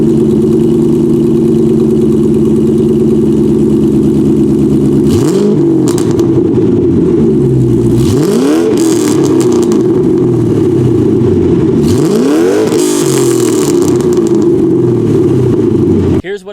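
A Ford Mustang V8 (2005-2009) with axle-back exhaust and an off-road H pipe idles with a deep, loud burble, then revs sharply three times, each rise falling back to idle, close up and with no voices.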